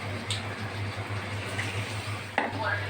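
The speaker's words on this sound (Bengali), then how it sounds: "এইভাবে আমি সবকটা বড়া ভেজে নেব" Water lily flower fritters frying in hot oil, a steady soft sizzle with occasional light stirring and utensil clinks, and a sharper tap near the end.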